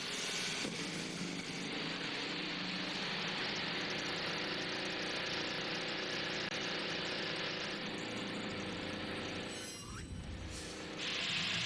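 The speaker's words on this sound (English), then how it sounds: "Drivers, start your engines!" Several IndyCar race car engines running together at a 2023 Grand Prix, a loud, steady, dense mechanical drone that holds throughout with a brief dip near the end.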